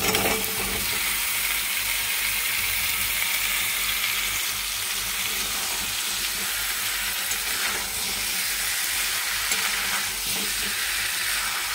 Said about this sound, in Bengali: এবার আমি আলুগুলো মিশিয়ে দেবো